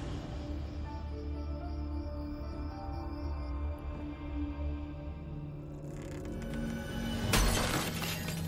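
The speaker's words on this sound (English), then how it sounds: "it sounded like the mirror crashed and smashed into a million pieces" A large mirror crashing and shattering, a sudden loud burst of breaking glass near the end after a stretch of quieter ambience.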